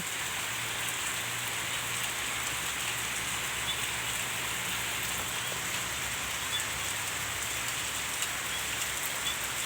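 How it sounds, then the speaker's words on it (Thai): Heavy monsoon rain pours down steadily, a dense, even hiss of drops hitting surfaces with no pauses or voices. "ฝนตกกลางแรงเลย"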